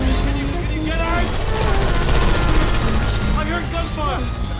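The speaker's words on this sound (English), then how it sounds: "I heard gunfire." Gunfire rattles through a Portal 2 game scene in a dense, continuous fusillade, loud and close, with overlapping shots and other game noise.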